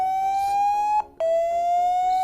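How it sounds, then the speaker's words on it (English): A phone speaker plays its speaker-cleaning tone from a custom ROM, a loud, piercing, siren-like tone that slowly rises in pitch, briefly cuts out, then resumes at a lower pitch and climbs again. "it creates a different type of sound which clears your speakers"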